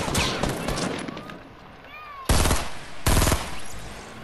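Video game gunfire: scattered shots early on, then two sharp, loud bursts of rapid automatic fire, each lasting about a quarter second, with a brief tonal sound in between.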